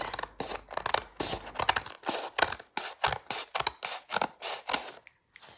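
Scissors cutting a paper folio piece for a collage project, a quick series of crisp, close snips and crunches, rhythmic and clear with brief gaps.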